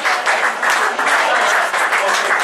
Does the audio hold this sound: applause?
yes